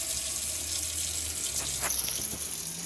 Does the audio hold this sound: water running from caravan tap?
yes